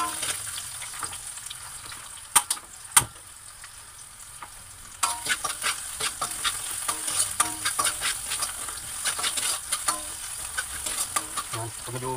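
Chopped garlic and onion fry in a very hot pan for a sautéed corn dish, with a few sharp clanks, then a louder steady sizzle from about five seconds on, broken by rapid scraping stir strokes, with no one speaking.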